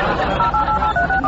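Telephone keypad dialing tones, a quick sequence of short, clear beeps at shifting pitches pressed one after another, close and loud, over a faint background murmur.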